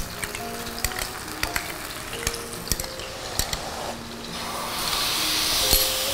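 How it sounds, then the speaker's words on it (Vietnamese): Eggplant pan-frying in a hot pan, a steady sizzle with scattered pops and crackles throughout, growing into a louder, denser hiss toward the end, with no talking. "Mình chiên khoảng 5 phút"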